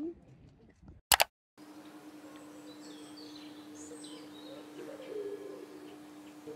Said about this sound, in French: On entend des oiseaux, des petits animaux.